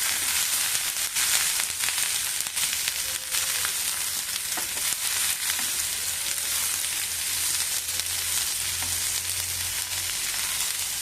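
Green tomatoes fry in a pan and are stirred, making a steady crackling sizzle with scattered scrapes and clicks, close and moderately loud.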